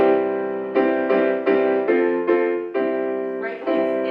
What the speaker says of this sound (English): then a major chord sounds like this